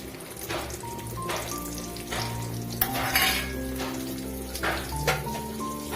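Mustard seeds, dried chillies, onion and fenugreek fry in hot coconut oil, giving a steady close sizzle with small pops and a few utensil clinks, and no talking.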